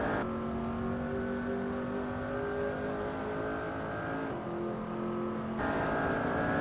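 A McLaren 720S supercar engine in a driving simulation game holds a sustained, loud revving drone with steady tonal whine, shifting pitch briefly near the end as the throttle changes.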